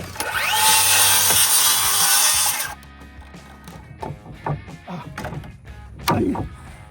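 Power saw cutting straight across wooden blocking between studs: a loud, high, steady whine for about three seconds, then stops, followed by knocks and handling clatter.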